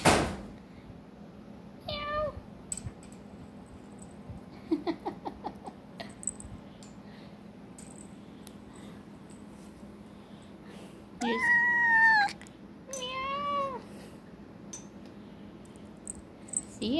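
A cat meows several times, short high calls early on, then two longer, louder drawn-out meows near the end, close by with quiet pauses between.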